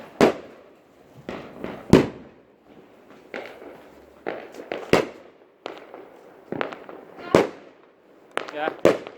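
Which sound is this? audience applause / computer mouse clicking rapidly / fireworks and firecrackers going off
fireworks and firecrackers going off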